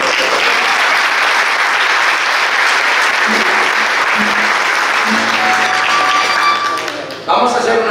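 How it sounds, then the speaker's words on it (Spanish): A live audience at a Canary Islands folk group performance in Alicante breaks into loud, sustained applause, dense clapping filling the room before tapering near the end. "Le damos un fuerte aplauso si puede."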